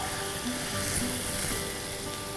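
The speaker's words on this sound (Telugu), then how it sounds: "ఇప్పుడు ఈ ఆనియన్స్ ఫ్రై అయిపోయినాయి కదా" Onions frying in a pan of oil for chicken keema curry, giving a steady, close sizzle with faint scraping touches, continuous and fairly quiet, with no voices.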